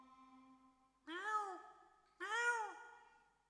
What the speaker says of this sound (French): le chat saute en bas du lit, s'approche de la porte en miaulant